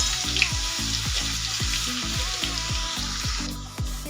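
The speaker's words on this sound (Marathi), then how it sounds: "मी अद्रक लसूणची पेस्ट बनवून घेतलेली आहे, ही पण टाकून घ्यायची तेलामध्ये" Ginger garlic paste fries in oil after the mustard seeds crackle, a bright continuous sizzle over a regular thudding beat, like a spoon or pan knocking roughly twice a second, close with no speech.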